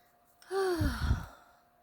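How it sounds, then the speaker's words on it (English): A cat snoring: a low, drawn-out moaning breath, rising then trailing off with a rough, rumbly texture, close by and alone. "if you hear moaning, that's my cat snoring over here."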